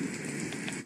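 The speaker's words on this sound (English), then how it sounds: "thunderstorm" A sound machine plays its thunderstorm track, a steady loud wash of rain-like hiss with a low rumble underneath, close and continuous, without speech.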